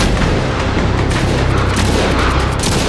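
Gunfire from a shooter video game trailer. Heavy, sustained shots and booming impacts blur into a loud, unbroken barrage.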